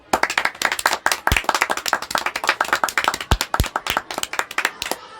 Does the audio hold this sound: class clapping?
yes